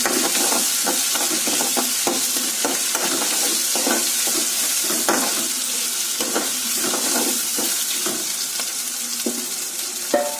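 Onions with ginger garlic paste fry in oil for a drumstick and tomato curry, making a loud, steady sizzle up close, broken by repeated scraping strokes of a spoon stirring the pan, with no voices.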